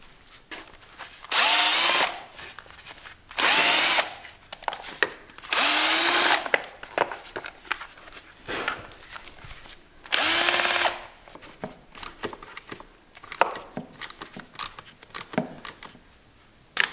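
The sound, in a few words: cordless screwdriver removing screws from motorcycle chain guard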